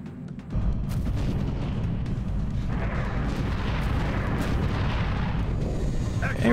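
A reaction shot goes off in XCOM Long War on Impossible against heavy floaters, heard as a loud, sustained stretch of booming, rumbling gunfire that runs nearly the whole clip.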